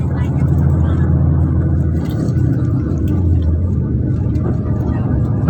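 A truck loaded with stones rumbles past near Jabal Rahmah on the plain of Arafah, a loud, steady low engine drone with people talking over it.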